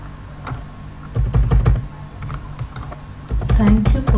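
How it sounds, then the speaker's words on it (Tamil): Keys clatter on a computer keyboard while entering text into an Excel spreadsheet cell, close and fairly loud, in uneven bursts of rapid clicks with short pauses between them. "இதை இந்த செல்லில் நான் டைப் பண்ணிட்டேன்"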